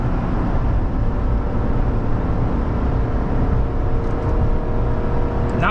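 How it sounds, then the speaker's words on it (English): GMC Sierra 1500 with the 5.3L engine towing a heavy load up a 6% grade at wide open throttle, a dense, loud, steady engine roar mixed with road and wind noise throughout. "wide open throttle,"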